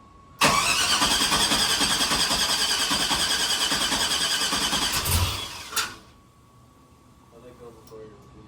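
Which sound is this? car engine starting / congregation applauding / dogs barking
car engine starting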